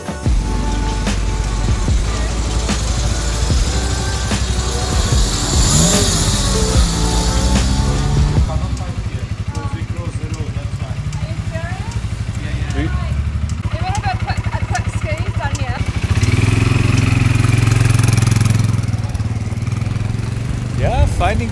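A quad bike engine runs steadily throughout, a close, continuous low drone that swells louder near the end, with a person talking over it.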